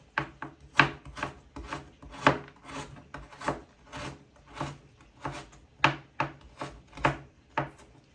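Carrots being finely chopped with a knife on a cutting board: about a dozen crisp, uneven strokes over several seconds, close and moderately loud, with no talking.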